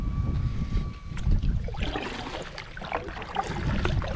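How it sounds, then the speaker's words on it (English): Paddle strokes of a Native Watercraft Ultimate FX12 kayak on open water, a continuous close wash of splashing and dripping with repeated swells, loud and steady throughout without voices. "I'm gonna paddle a little bit."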